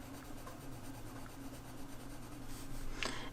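Steady scratchy rubbing of a colored pencil on paper, continuous strokes with a brief sharper scrape near the end.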